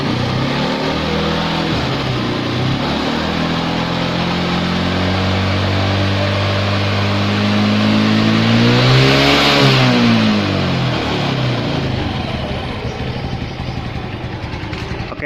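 A Yamaha NMax motor scooter engine runs loud and close, holding a steady drone and then revving up to a higher pitch around the middle before settling back down.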